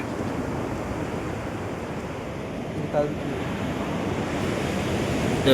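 Ocean waves wash onto a beach in a steady broadband roar with wind buffeting the microphone, fairly faint and continuous, swelling slightly toward the end.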